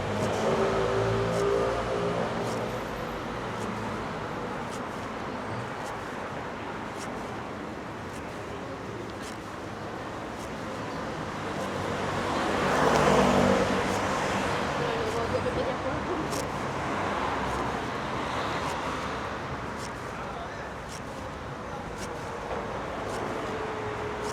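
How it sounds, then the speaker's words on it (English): City street traffic in Palma de Mallorca with motorcycles and scooters, a steady roadway rumble with one vehicle swelling louder as it passes midway, under intermittent talking. "Lots and lots of motorcycles and scooters here."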